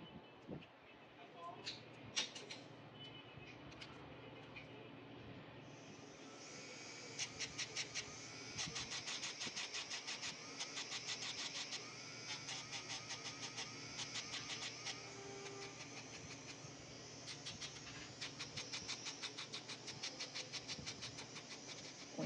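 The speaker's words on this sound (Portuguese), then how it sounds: "Conheço meus vídeos só pelo barulho do motor" A motor runs continuously with a steady, rapid mechanical pulsing, and muffled voices can be heard underneath.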